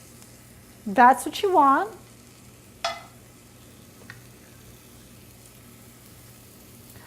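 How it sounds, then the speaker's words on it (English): Someone speaks briefly, then a short burst of hissing rises as salmon is laid seasoning side down in a hot cast iron pan, fading into a faint, steady sizzle over a low hum. "And you can hear just a light sizzle."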